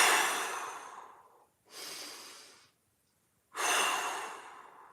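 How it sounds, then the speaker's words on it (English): Three deep, audible breaths during a hip mobility exercise, each a long airy exhale close to the microphone, separated by brief silent pauses. "5 big breaths, expand the rib cage"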